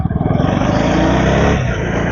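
A KTM Duke 250 Gen3 motorcycle engine revving loud and close, a steady rough roar that pulses briefly at the start then holds, with no talk.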